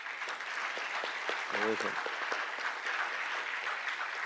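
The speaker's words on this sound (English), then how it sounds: "Let's give another round of applause and say thank you, Yves." Audience applause after a finance talk on reinforcement learning, a continuous wash of clapping from a seated crowd with a short spoken reply cutting through in the middle.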